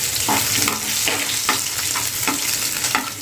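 Garlic fries in hot oil with curry leaves for a cabbage bhaji, a loud close sizzle punctuated by rhythmic spoon stirs and scrapes, with no talking.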